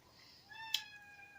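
A single cat meows once, a drawn-out, fairly quiet call with a small click partway through, alone in a hushed indoor room.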